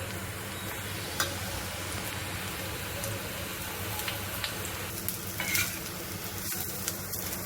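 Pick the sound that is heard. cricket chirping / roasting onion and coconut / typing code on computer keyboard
roasting onion and coconut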